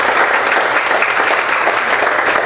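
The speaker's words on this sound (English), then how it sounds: "Just give them a round of applause." Loud, dense applause from a crowd, steady clapping sustained throughout without pause.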